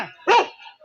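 A single short, sharp dog bark rings out close by during a rustic comedy stage play, with faint sounds around it.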